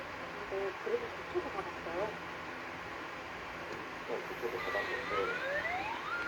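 An emergency siren wails and sweeps upward over steady traffic rumble, growing more prominent toward the end as the vehicle passes.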